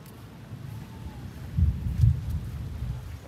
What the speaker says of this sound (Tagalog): Kumukulog, kulog, kulog, kulog.